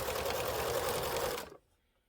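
A sewing machine runs steadily, stitching quilt binding onto a table runner. The whirring hum is close and even for about a second and a half, then stops abruptly into quiet.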